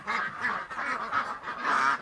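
Peking ducks on a farm call out in a steady run of loud, nasal honking quacks that overlap one another at close range, with no talk over them.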